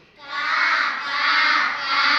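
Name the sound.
children imitating crow caw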